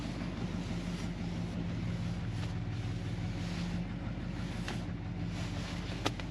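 Low, steady idle of a 1957 Ford Fairlane 500 Skyliner retractable engine at about 800 RPM, an even throbbing rumble heard up close and continuous.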